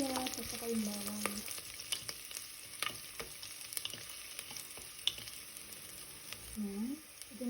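Onion and garlic sautéing in a pan for a pork nilaga, a steady close sizzle and frying crackle with occasional stirring scrapes, and brief faint voice sounds.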